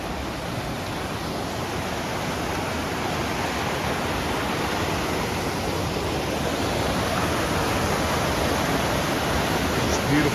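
Steady, dense rush of creek water at Laughing Water Creek beneath a large bridge in Mount Rainier National Park, a constant broadband roar that stays loud and unbroken throughout with no talk.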